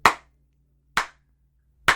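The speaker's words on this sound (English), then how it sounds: "Clap it up" Three sharp, separate hand claps spaced about a second apart, close and crisp, with silence between them.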